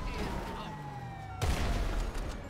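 A Heavy Sniper Mk II rifle fires one shot in GTA Online, a single sharp, loud report partway through that breaks over a steady background hum and leaves a rumbling tail.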